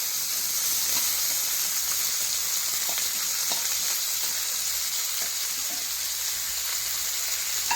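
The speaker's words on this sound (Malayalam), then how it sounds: "എണ്ണ നല്ലോണം ചൂടാണ്ട് പൊട്ടിക്കഴിയുമ്പോൾ നമുക്ക് ഉള്ളി ഇട്ട് വഴറ്റണം" Onions sautéing in hot oil for a tamarind-soured prawn-style curry, a steady dense sizzle running evenly throughout with small crackles and pops, close and fairly loud, no voices.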